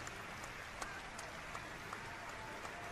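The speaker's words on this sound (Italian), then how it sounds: "l'applauso di tutto il Palarà di, di, Cremona" A volleyball arena crowd at the PalaRadi in Cremona applauds an injured player: a continuous wash of distant clapping, faint and even, like rain on a roof, with a few sharper claps standing out.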